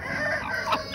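A mixed backyard flock of chickens clucks busily while feeding on greens, and a rooster crows among them, close and fairly loud.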